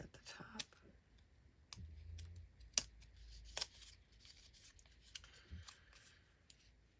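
Scissors trim the top edge of paper ephemera in a few quick, close snips, with soft paper rustling and handling between cuts and a faint whisper-quiet voice at times.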